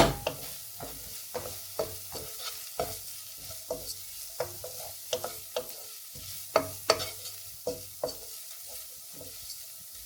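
Chicken florentine stirred in a pan, heard as a run of repeated close spoon knocks and scrapes over a soft sizzle, with no one talking.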